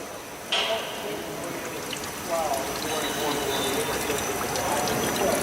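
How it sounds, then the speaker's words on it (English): A steady stream of water pours out, the flow swelling a little louder partway through, with faint voices under it. "Quite a bit more water coming out."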